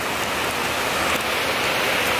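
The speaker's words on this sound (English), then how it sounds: "There's rain." Steady rain pours down on an outdoor market where vendors have set up pop-up boutique stalls, a dense, even hiss that stays loud and close throughout with no voices.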